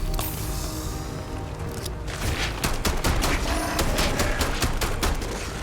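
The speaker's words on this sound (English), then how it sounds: "I like the sound of this gun." Rapid, sustained gunfire from a weapon in the sci-fi game Starfield, a dense stream of loud, close shots crackling without pause across several seconds, with sharper individual reports standing out in the second half.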